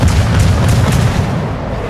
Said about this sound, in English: I started pounding him once again with my 5 guns, trying to get another fire started